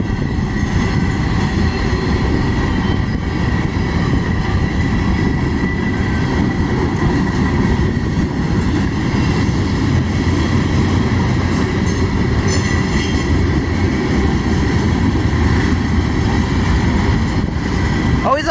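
A train passes close on railway tracks, producing a loud, continuous rumble of wheels and cars with faint metallic squealing and a few brief brighter screeches toward the end.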